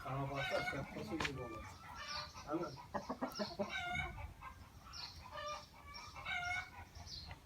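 A rooster and hens cluck and call close by in a yard, a burst of crowing-like calls followed by repeated clucks and squawks, loud and irregular, with some speech mixed in.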